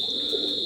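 Teddy pigeon giving a short, soft low coo, close by, with a steady high-pitched electronic whine running underneath.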